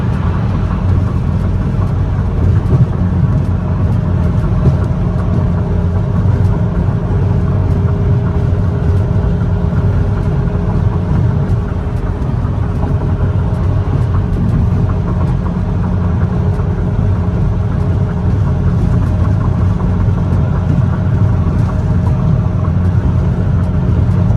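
A car driving up to a gas station in Detroit: a steady, loud, low engine rumble with road noise that holds evenly throughout, with no speech.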